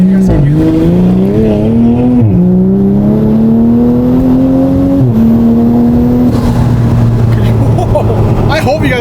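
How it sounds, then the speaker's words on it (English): A modified Toyota Supra revs loudly, its engine note climbing and dropping in repeated pulls, with intake and induction noise and a brief sharp pop, up close and dominating. "Dude, even the intake's louder with the induction noises"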